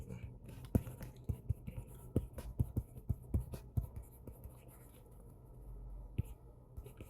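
Chalk or pen taps and scratches out an equation during a Korean high-school maths lesson on circle equations, in a quick irregular series of close, quiet strokes with brief pauses and a few faint breaths.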